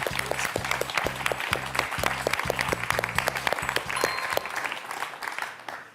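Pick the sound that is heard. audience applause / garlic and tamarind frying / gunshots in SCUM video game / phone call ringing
audience applause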